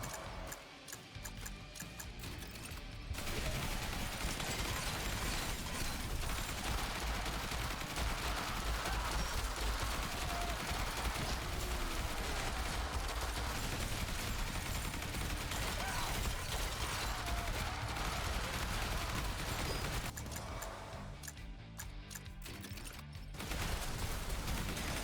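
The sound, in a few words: assault rifle gunfire in the video game Yet Another Zombie Survivors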